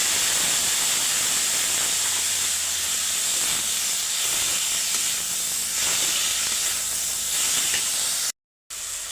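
Ridge gourd frying in a pan with onion and tomato gives a steady, loud hiss and sizzle throughout, broken by a brief dropout near the end.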